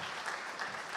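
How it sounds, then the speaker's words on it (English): A brief, steady patter of audience clapping at a St. Louis Sports Hall of Fame ceremony, a moderately quiet wash of applause with no talking. "Let's give him a nice round of applause, please."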